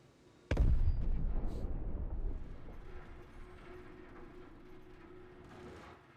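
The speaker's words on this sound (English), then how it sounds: "It'll crash now into the ground." A ship in Star Citizen slams into the ground with a sudden heavy crash, a loud impact followed by a long rumbling, debris-filled decay that fades over several seconds.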